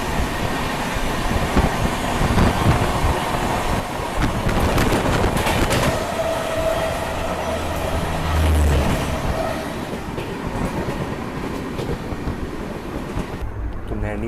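Ranchi Rajdhani Express running at speed through Prayagraj Chheoki station, a steady loud rumble of rolling wheels and rattling carriages heard from onboard, with a brief rising tone partway through.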